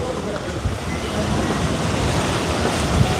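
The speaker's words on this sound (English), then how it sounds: "It's a wild, windy day in Mactan Newtown" Strong wind buffets the microphone in a steady, rumbling roar, with gusty low thumps throughout and no clear voices, on a wild, windy day in Mactan Newtown.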